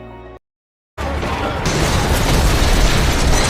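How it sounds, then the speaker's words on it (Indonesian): A car exploding in an action film scene, where a musical passage cuts to silence and then a loud blast erupts into sustained roaring, crackling fire and debris noise. "mobil yang sebentar lagi akan meledak"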